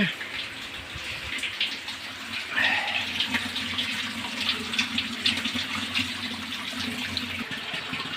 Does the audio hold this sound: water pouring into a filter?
yes